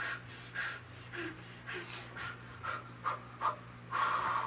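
Heavy rhythmic breathing from a person doing slow-motion strength training with weights, a series of close, even exhales repeating roughly every half second to second, growing stronger toward the end, with a steady low hum beneath.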